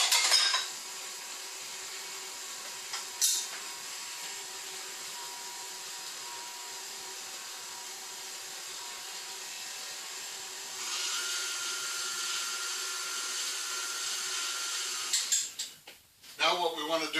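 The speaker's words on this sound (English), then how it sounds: "I put the mixer on a low speed and let it mix a little bit." An electric mixer runs on low speed through bread batter for orange cranberry bread, giving a steady whirring drone that lasts throughout, with a brief clatter partway and knocks near the end.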